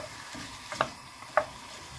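Butter and pieces of beef are stirred in a pot as they begin to melt. Two short, distinct scraping strokes of a utensil stand out over a quiet, faint sizzle.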